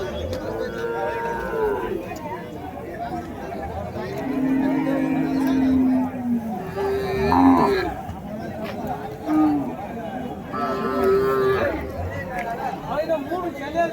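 Cattle at the Uthangarai cattle market moo in several long calls, among them red-coated bulls, with market chatter and someone talking over the animals.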